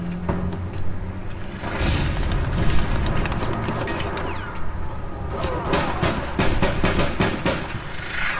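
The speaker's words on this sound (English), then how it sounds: "I seen a grenade and a rocket." Grenade and rocket explosions in APB Reloaded, a dense run of loud blasts and sharp cracks over a rumbling, busy game backdrop.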